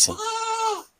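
A single close, clear bleat from a newborn goat kid, high and wavering, lasting under a second.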